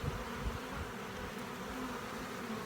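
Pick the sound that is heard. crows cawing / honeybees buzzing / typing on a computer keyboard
honeybees buzzing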